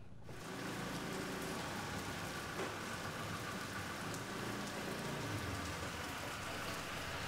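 Steady rain falls in Gunung Kidul, Yogyakarta, a dense continuous hiss of drops on surfaces with a faint low rumble beneath, unbroken and without voices.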